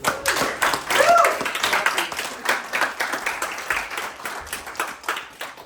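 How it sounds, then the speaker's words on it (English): An audience at a hackathon demo event claps for the presenters, with distinct individual hand claps in an uneven, moderately sized round, with some talk mixed in. "let's just hear a warm round of applause for everyone"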